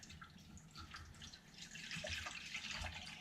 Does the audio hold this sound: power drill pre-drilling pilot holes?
no